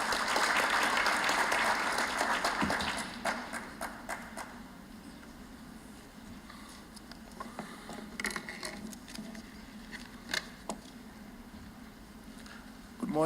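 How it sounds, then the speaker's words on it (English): Conference hall audience applauding the AU Commission Deputy Chairperson at a 2018 ministers' meeting, loud and dense for about three seconds, then thinning to scattered claps that fade out. "Give him a round of applause, please."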